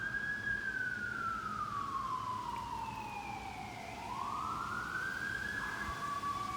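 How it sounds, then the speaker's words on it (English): Emergency vehicle sirens from passing ambulances and fire trucks, a single loud wailing tone sweeping slowly down and back up over a steady street rumble, close by and continuous throughout. "All day I heard the ambulance after ambulance and fire truck"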